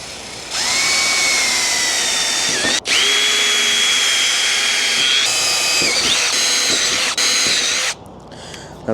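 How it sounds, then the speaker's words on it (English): A power drill pre-drills holes while a switchboard is rewired after a house fire. It gives several loud, close whining bursts of a few seconds each, broken by brief pauses, with no talking. "So we're going to pre-drill these holes."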